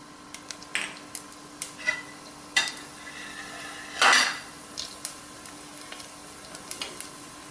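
Fennel seeds and black pepper tempering in three spoons of hot oil in a pan: quiet, scattered crackles and sizzling pops, with a louder hiss burst in the middle and light clinks of a utensil against the pan.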